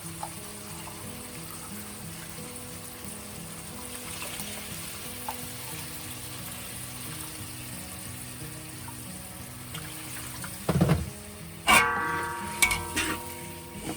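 Tofu simmers and sizzles in soy sauce in a pot, a soft steady bubbling hiss that runs alone for most of the stretch before a few louder clatters and running water near the end.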